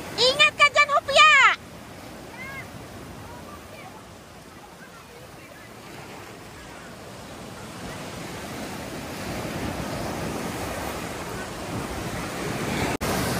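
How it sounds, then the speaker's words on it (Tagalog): Strong ocean waves pound near a cave on a hike, a rushing surf roar that swells gradually louder over the clip, preceded by brief bright voices and wind buffeting the microphone. "Oh my gosh, ang lakas ng alon."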